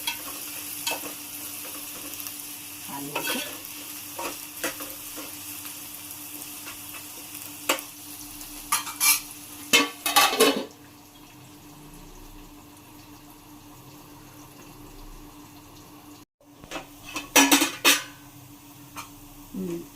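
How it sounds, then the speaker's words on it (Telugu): Green chillies and onions fry in oil in a pan, a steady soft sizzle broken by repeated clinks and scrapes of a stirring spoon against the pan, quiet and close with no speech. "పచ్చిమిర్చి, ఉల్లిగడ్డ రెండు బాగా బ్రౌన్ కలర్ వచ్చే వరకు పచ్చిమిర్చి బాగా కాలాలి."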